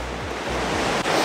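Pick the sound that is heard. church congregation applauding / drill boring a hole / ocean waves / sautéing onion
ocean waves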